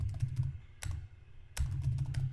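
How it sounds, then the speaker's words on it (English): Typing on a computer keyboard, with short bursts of close, quiet key clicks separated by brief pauses, alone without talk. "I'm going to type about marketing"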